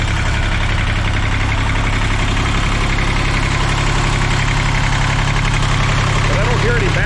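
An old diesel roller compactor engine, started for the first time in 30 years, idles steadily and loudly close by, its low rumble and rhythmic chugging constant throughout with no knocking or other sounds standing out.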